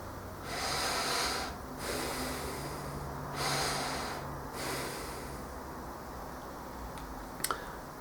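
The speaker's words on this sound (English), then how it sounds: "Began to breathe deeply," Slow, deep breaths during seated meditation, with long airy inhales and exhales rising and falling in three or four cycles, close and fairly soft, ending in quiet with a couple of faint ticks.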